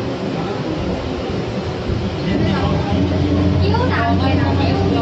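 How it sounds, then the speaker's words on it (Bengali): A passenger train pulls out of Namkhana station in West Bengal, with a steady low rumble and rising clatter of the carriages building up as it gets moving, while people talk in the background. "আমাদের ট্রেন ছেড়ে দিল নামখানা স্টেশন থেকে"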